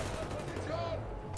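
Rapid gunfire from the shooter game Wolfenstein: The New Order, a dense crackling barrage running steadily throughout under a player's voice.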